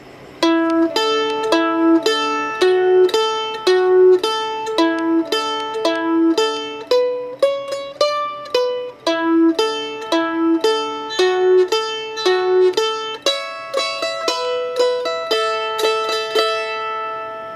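Bluegrass mandolin plays the fiddle tune Boil Them Cabbage Down at full tempo, bright picked notes and double stops in a steady bouncing rhythm, solo and close with no talking.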